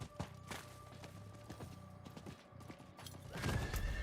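A horse's hooves clip-clop steadily as a character rides a mount in the Diablo 4 video game, quiet rhythmic footfalls with creaking tack and a louder rumble near the end.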